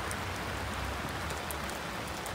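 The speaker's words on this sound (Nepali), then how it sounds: "पानी परिरहेको छ" Rain falling steadily in a park, a dense, even hiss with scattered drops, continuous and fairly faint throughout with no voices.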